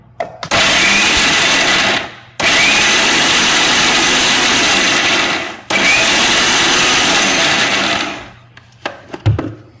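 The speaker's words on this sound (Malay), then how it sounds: "Got this mini blender that can be, you can grind anything without liquid." A small blender whirs loudly in three long bursts, grinding ingredients dry without liquid for chicken curry, separated by brief pauses, then stops with a few clunks.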